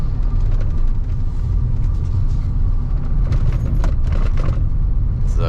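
A 1988 Ford F-250 4x4 pickup rolls along at about 35 mph over a stretch of potholes, a loud continuous low road rumble inside the cab punctuated by brief knocks and rattles from the bumps.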